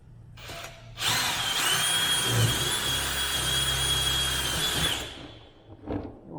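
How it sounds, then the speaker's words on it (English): A power drill whirs loudly for about four seconds in one continuous run, close by, drilling a hole while installing an RV water filter, then stops, with faint handling sounds before and after. "So I got a drill and I put a piece of tape on my drill"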